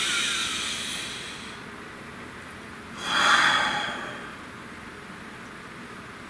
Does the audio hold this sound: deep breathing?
yes